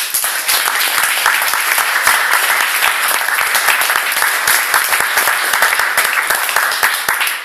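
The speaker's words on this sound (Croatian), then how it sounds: "Pozdravimo ga aplauzom sa 93 boda, Vlatko Kalić." A dense, continuous burst of clapping from an audience at a slam poetry championship final in a club, loud and close, steady from start to finish with no voices.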